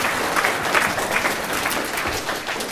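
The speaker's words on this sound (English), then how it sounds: "So give him a round of applause." A studio audience breaks into steady, dense applause for a participant who has just entered a stock options game, a continuous even wash of clapping with no voices standing out.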